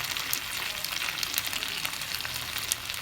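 Fish grilling in a pan after being flipped, a steady close sizzle and crackle with bright spitting pops running throughout, no voices.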